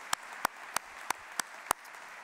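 A few scattered claps ring out at a regular pace during an annual business meeting, six sharp, isolated hand claps over a quiet room rather than full crowd applause.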